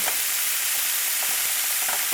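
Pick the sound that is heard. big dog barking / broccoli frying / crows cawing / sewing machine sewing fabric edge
broccoli frying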